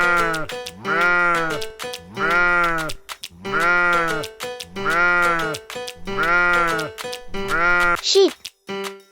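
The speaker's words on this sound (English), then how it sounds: "Can you help me find the sheep?" Sheep bleating repeatedly in a farm-animal setting, six or seven loud, wavering calls in a steady rhythm, close and clear with no talk over them, ending in a brief higher squeal.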